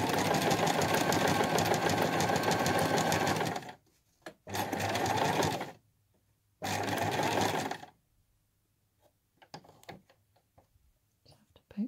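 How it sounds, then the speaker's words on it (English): A sewing machine stitches around a quilted scissor case in three bursts: a long run, then two shorter ones, each a close, steady whirring hum, separated by near silence with faint handling clicks. "Sewing right round back to where we started, checking that you've got both layers"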